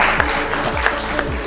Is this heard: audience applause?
yes